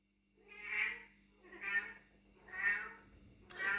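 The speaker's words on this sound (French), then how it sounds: "Ok, tais-toi le chat là." A cat meows four times in a steady, evenly spaced rhythm, fairly close and moderately loud, with no talk.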